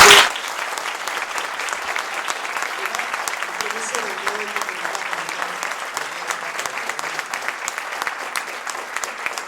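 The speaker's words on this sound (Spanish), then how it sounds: "presentarles al señor Leonardo Anselmi con un fuerte aplauso nuevamente." Steady, dense applause from a sizable crowd, beginning with a brief louder burst and continuing evenly throughout.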